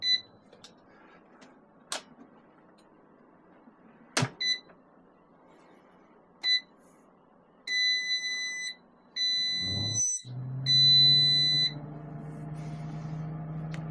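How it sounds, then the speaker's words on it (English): Instant Vortex Plus air fryer giving loud, sharp high beeps, single chirps at first, then longer multi-tone beep bursts from button presses, followed by a low fan hum starting up. "The InstaVortex Plus that I have over here is extremely loud with the button presses."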